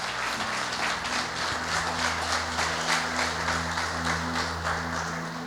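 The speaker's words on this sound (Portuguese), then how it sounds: "então aplauda bem forte o Senhor essa noite" A church congregation applauds during an evangelical service, a steady wash of many hands clapping throughout, somewhat distant and blended with sustained music tones underneath.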